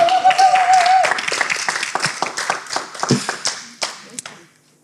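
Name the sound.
audience applause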